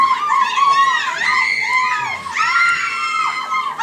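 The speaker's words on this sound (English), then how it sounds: "When they heard that chord, they began to scream." Large crowd of fans shrieking and screaming in response to a musical chord, a dense, loud, continuous wall of high-pitched overlapping screams with no break.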